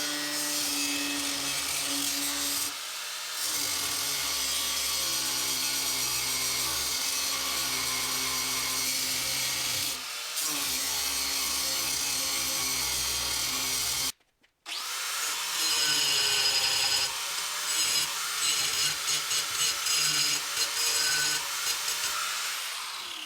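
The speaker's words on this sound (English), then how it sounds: "So I'm going to get set up, grinder wheel, cut off wheel," An angle grinder with a cut-off wheel cuts into axle flanges on a Fox Body car, a loud, steady close-up whine broken by short pauses and one full stop before cutting resumes.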